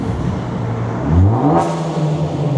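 A car engine revs up hard while driving through a tunnel on the Isle of Wight, the note climbing and booming close and loud against the enclosed walls, then easing back to a steady drone.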